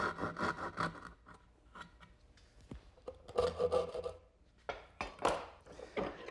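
Rasping strokes of a file cutting away part of a wooden bevel on a dollhouse piece, in close bursts with short pauses between them.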